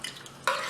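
Homemade no-sugar pasta sauce stirred in a pot, a brief close scrape and swish of a spoon against the pot that swells suddenly halfway through, with a faint sizzle underneath.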